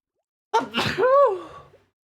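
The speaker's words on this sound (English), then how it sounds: "That sneeze." A single sneeze, a sharp intake followed by a voiced burst that trails off within about a second, close and clear against silence.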